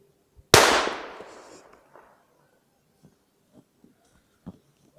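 A homemade firecracker goes off outdoors with one sharp, loud bang that rings and decays over about a second, followed by a few faint scattered knocks and small sounds.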